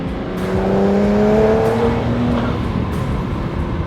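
A BMW 335i fitted with large twin turbos accelerates hard, its engine note climbing steadily in pitch and loud from inside the car before easing off.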